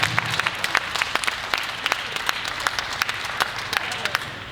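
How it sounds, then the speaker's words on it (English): Applause from the audience at a youth music event, a moderate group clapping with distinct individual claps standing out, fairly even and continuous with a faint murmur underneath. "give them an applause."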